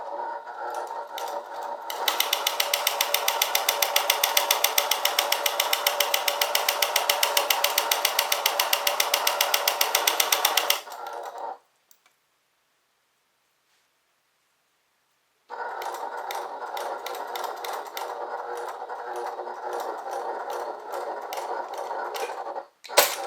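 A sewing machine bastes a bag panel with a loud, steady run of rapid stitches for about nine seconds, falls silent for a few seconds, then starts again and stitches steadily to the end.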